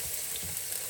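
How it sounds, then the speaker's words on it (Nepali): Onions frying in a pan for homemade mutton biryani make a steady, faint sizzling hiss, with no voices. "एकछिन यसलाई ठ्याक्क रातो हुनेसम्म भुट्नु पर्छ"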